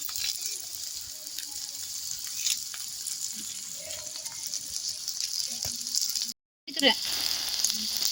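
Curry leaves frying in hot oil in a pan for chicken kothu parotta: a continuous bright sizzle and crackle with a brief moment of silence near the end before the hiss returns.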